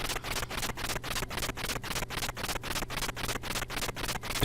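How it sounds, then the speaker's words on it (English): Hammer Bros from the NES game Super Mario Bros 3 march about in a steady, fast repeating pattern of crisp chiptune pulses, loud and continuous over a low buzzing game tone with no talk. "This is the noise of the Hammer Bros walking around."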